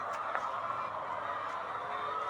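Many layer hens cluck and squawk together in a steady, dense chorus in a poultry house holding four thousand birds, with no pauses and no talking.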